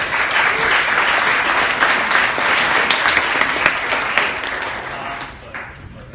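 Sustained applause from a large audience at a startup pitch night, steady and dense clapping that tapers off near the end.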